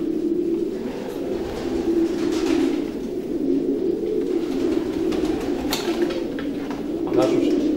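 Pigeons coo steadily in a racing pigeon stud loft, a continuous low murmuring burble with a few wing flutters.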